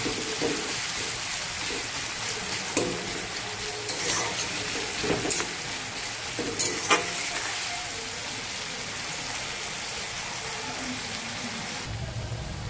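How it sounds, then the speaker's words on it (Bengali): Onion and salt frying in a spice paste in a pan, a continuous hissing sizzle broken by a few scraping stirs, close and fairly loud, with no voices. "এবারে আমি পেঁয়াজটা দিয়ে দেব, নুন দিয়ে দেব মশলাতে।"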